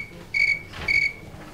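A tree cricket chirps twice in two short, shrill, steady pulses, clear and close against quiet background hiss.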